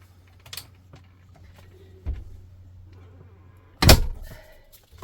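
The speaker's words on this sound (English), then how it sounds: "when you're shutting the door, it folds in" An LTV RV door fitted with a support strap swings shut and lands in a single loud thunk near the end, after a few faint clicks and knocks. No one speaks over it.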